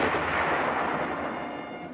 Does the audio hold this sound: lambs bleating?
no